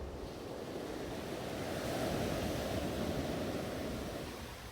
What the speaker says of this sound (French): Bois-Jolant est une belle et immense plage de sable blanc bordée de cocotiers.